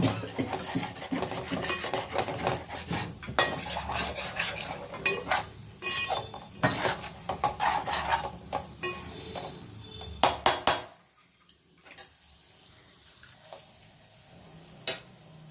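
A pot of village-style pond fish curry being stirred, with a spoon scraping and clinking against the pot over a steady sizzle, busy and close for about ten seconds before dropping to a quiet simmer.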